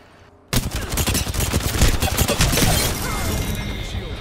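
A dense burst of rapid gunfire opens abruptly after a brief quiet and keeps going loud and close in an Apex Legends firefight, several weapons rattling together, with shouted voices partly over it.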